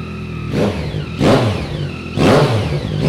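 A 2015 Yamaha MT09 motorcycle with a full Akrapovic exhaust system blips its throttle in three loud, close rev bursts, each rising and falling back to a rumbling idle.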